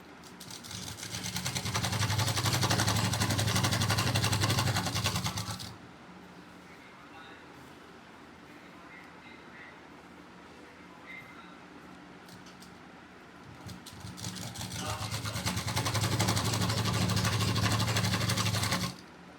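A sewing machine runs in two long, loud bursts of rapid stitching along a salwar edge, separated by a quieter pause with faint handling noise.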